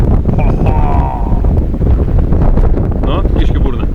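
Gusty wind buffeting the microphone outdoors in Lithuania, a loud continuous rumble and roar throughout, with a voice and brief speech-like sounds briefly heard over it.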